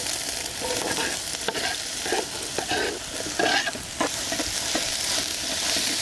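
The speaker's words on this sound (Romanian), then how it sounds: "și vom adăuga ceapa." Chopped onion frying in olive oil in a cauldron, a steady loud sizzle with stirring scrapes and clatters throughout, no talking.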